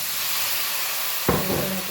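A splash of water hits a hot pan of flour spiced with turmeric, red chili powder and coriander-cumin, setting off a sudden loud steam hiss midway that stays strong over a faint background.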